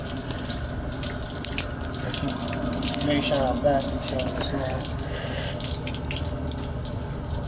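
Tap water runs steadily into a basin in a 2012 Keystone Passport 3220 BH travel trailer during snowy winterizing, a constant close hiss and splash while people talk over it.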